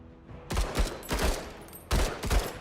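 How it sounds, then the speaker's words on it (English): Rifle fire in a turn-based tactics video game, heard as two pairs of loud, rapid shots with booming low ends and short gaps between volleys. "Let's fire with our rifles. Shoot to kill!"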